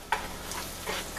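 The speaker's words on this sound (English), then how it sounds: "Stir it occasionally so it gets evenly" Garlic sizzling in butter in a pan, a soft steady frying hiss with a couple of brief stirring scrapes, close and fairly quiet, no talking.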